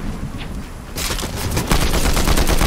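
Combat Assault Rifle fire in Fortnite, a faint opening that breaks into loud, sustained rapid gunfire, dense and continuous to the end.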